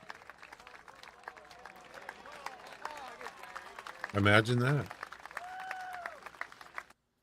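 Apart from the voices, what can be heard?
applause sound effect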